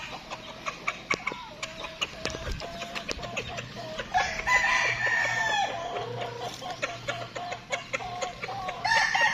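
Native chickens and gamecocks on a provincial farm in Laiya, San Juan, Batangas cluck busily at close range, with repeated short calls and a longer crowing-like call in the middle, and a low background hum.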